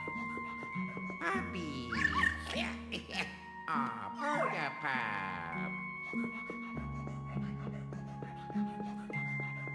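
Ghost puppy in the Luigi's Mansion 3 video game yips in short, bright barks and squeaky whimpers, layered over steady game music and jingly chimes at moderate loudness.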